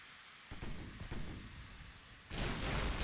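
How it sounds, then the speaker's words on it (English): Battleship bow guns firing in the Ultimate Admiral Dreadnoughts naval game: a few deep booming reports over a steady hum of wind and sea, then a louder surge of heavy rumble near the end. "Allow the bow guns to join the fight."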